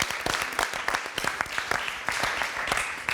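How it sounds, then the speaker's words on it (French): A studio audience claps for the show's consultant Kevin, a short burst of distinct, fairly close handclaps in an irregular rhythm, with no voices over it. "Allez, on peut applaudir Kevin."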